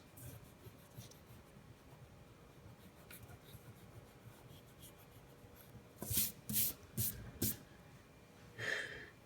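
Pencil lines being erased on a two-point perspective house drawing: faint soft paper rubbing at first, then several short, brisk rubbing strokes in quick succession near the end.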